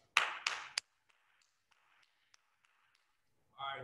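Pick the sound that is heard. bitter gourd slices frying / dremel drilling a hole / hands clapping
hands clapping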